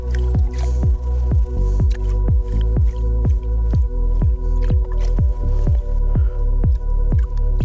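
Gold pay dirt from Sluiceboy Prospecting, bought on Amazon, being panned in water: a steady, rhythmic sloshing and squishing that repeats about twice a second, close and fairly loud throughout.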